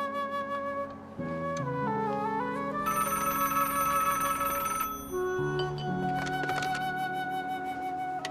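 A telephone ringtone playing loudly and alone, a tonal electronic melody with shifting pitched notes that repeats before the call is answered.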